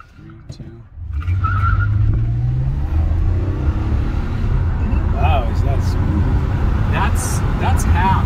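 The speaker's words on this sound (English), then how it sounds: "It's almost like the exhaust sounded louder before, but it was all the engine." Car engine pushed to full throttle with tires squealing, a loud roaring drive that starts abruptly and holds strong, with screeching tire tones and a voice talking over it.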